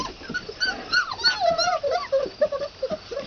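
Red standard poodle puppies outdoors for the first time whimper and yip in a busy, overlapping chorus of high, wavering cries, close and fairly loud throughout.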